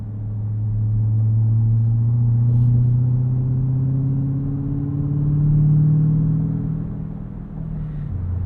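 A 2024 Ford F-150 Raptor R's supercharged 720 hp V8 drones loud and close as the truck drives on a morning commute, its low engine note swelling slightly and easing off, with no talking.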